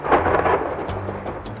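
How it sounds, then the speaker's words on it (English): Deep rolling thunder rumbles through a severe thunderstorm with rain hissing underneath, loud and close, with no voices. "A super thunderstorm produces winds of 200 miles an hour."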